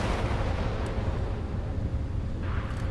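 Naval close-in weapons such as a Phalanx CIWS or RAM launcher firing in the Sea Power naval combat game, a sustained loud roaring rumble with no distinct breaks.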